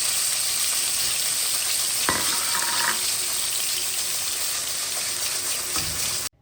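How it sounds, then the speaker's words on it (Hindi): Tomatoes fry in an old iron karahi over an open fire, giving a steady close sizzle with a brief stirring scrape partway through and no talk. "यहाँ टमाटर भी भुन रहे हैं"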